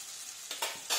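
Onion frying with turmeric and salt in a pan, a brief sizzle broken by a few stirring scrapes, close and fairly quiet, with no talking.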